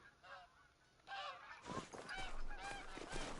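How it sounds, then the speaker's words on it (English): Snow geese honk in theHunter: Call of the Wild, a few nasal calls from a flock, faint at first and then louder and overlapping as several birds call together. "Snow geese."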